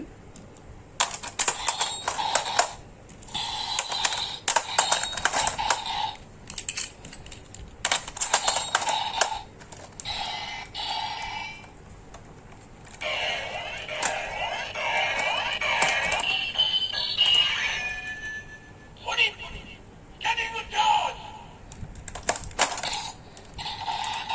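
Repeated bursts of electronic toy chimes and jingly sound effects from a Kamen Rider OOO DX transformation belt toy, each lasting a second or two, separated by short pauses, with one longer warbling sequence in the middle.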